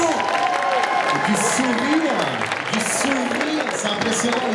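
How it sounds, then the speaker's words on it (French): An audience applauds a cosplay contestant at a costume contest, a steady wash of clapping running under a speaker's voice throughout. "On l'applaudit, merci beaucoup"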